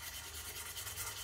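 A wooden spokeshave blade is rubbed back and forth on a diamond sharpening stone to polish out the 220-grit scratches, giving a steady, close, fairly quiet gritty scraping with an even rhythm and no voices.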